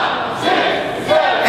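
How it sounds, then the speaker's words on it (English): A live wrestling crowd chanting a count in unison, two loud rising shouts about a second apart over a constant roar of the arena audience. "And the crowd going, counting along with him."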